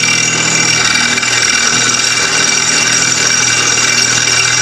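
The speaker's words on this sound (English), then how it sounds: "Then we gotta drill these holes." A steady, loud mechanical whine and rumble runs unbroken as a power drill bores holes through a tough garage door rod up close, with no pauses.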